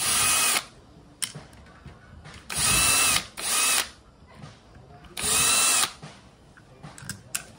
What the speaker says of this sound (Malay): Longgarkan skru ni.